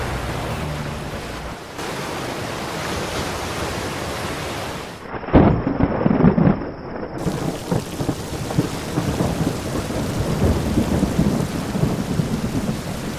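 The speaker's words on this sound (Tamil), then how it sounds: "மழை" Steady heavy rain pours throughout, broken midway by a loud crack and rolling rumble of thunder before the downpour carries on.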